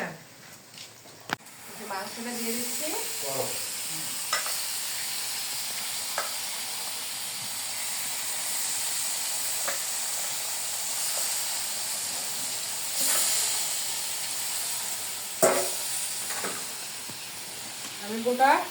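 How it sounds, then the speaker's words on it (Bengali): Salt and spices being stir-fried in a hot pan for a goat meat curry, giving a steady hissing sizzle with scraping stirs throughout and a few sharp clatters, while a person talks at times. "মশলা কিছু কষে নেই"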